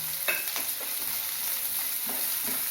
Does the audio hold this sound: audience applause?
no